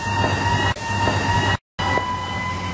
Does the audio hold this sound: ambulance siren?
yes